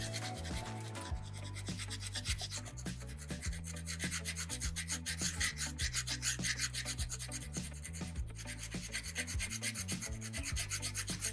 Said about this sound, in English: Using the rasp, just going to round this top part off as I continue. Scrubbing, constant pressure, constant contact, grinding that stone away.